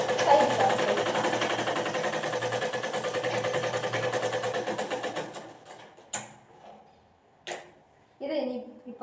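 A sewing machine stitches the side seam of a baby frock in a fast, steady mechanical whir for about five seconds, then stops, leaving short handling noises and a voice.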